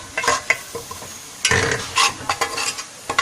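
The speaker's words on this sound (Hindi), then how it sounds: "देखिए प्याज हल्के ब्राउन हो रही है" Onions frying in hot oil to light brown for shola, a loud close sizzle broken by the scrape and clatter of a spoon stirring through the pan, with no voices.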